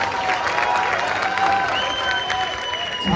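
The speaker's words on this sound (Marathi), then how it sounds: "एकदा त्यांच्यासाठी जोरदार टाळ्या दिल्या" An audience at a stage show claps together in sustained, dense applause. The clapping is loud and continuous for a few seconds, with crowd murmur and some voices underneath.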